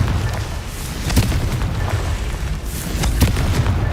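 Confringo fire spell in the Harry Potter game Hogwarts Legacy bursting with a dense, booming roar, punctuated by a few sharper cracks and pops across several seconds, loud and close with no voices.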